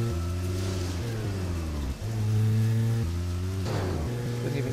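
A car driving in the video game Deadly Premonition, its steady engine hum wavering in pitch as it revs and shifts, loud and continuous with a brief dip midway.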